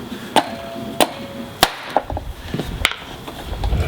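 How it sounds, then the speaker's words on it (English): Manual impact driver struck with a hammer on a rusty bolt on a Honda GL1500 carburetor, with four or five sharp, ringing metallic blows spaced about half a second apart, then lighter rattling. "when you hit it, you actually hit and turn at the same time"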